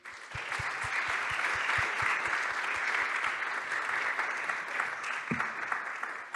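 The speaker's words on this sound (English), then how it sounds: "please give a big round of applause" A roomful of people at a cryptography talk applauds steadily, loud and sustained, with a rhythmic low thumping underneath and a brief bump near the end.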